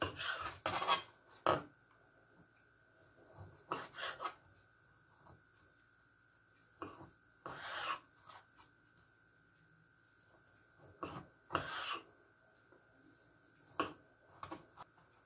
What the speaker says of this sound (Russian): Нарезать я буду небольшими полосками.